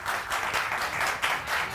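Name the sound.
audience applause on TV morning show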